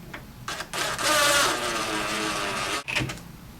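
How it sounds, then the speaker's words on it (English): A power driver sinks 1/2 inch flathead screws through L brackets into a JSI Designer base cabinet, with one sustained whirring drive of about two seconds between shorter bursts, close and fairly loud. "Now we want to take our 1/2 inch flathead screws just to lock those L brackets in place."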